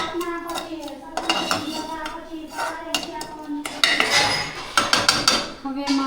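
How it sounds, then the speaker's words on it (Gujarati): Metal spoon scraping and clinking in a pan as ingredients are stirred and fried over a low gas flame, irregular clanks and scrapes close up, with a voice speaking at times. "હવે એ બધું ફ્રાય કરવાનું. ગેસ સ્લો રાખવાનો એટલે બરે."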